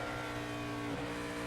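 Kevin Harvick's No. 29 NASCAR Sprint Cup race car drones steadily during final practice at Kansas in 2009, a faint, continuous engine note with no voices.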